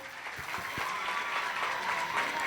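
Audience applause fills a school music program and the opening of its music room, steady and dense clapping from a crowd that carries on throughout.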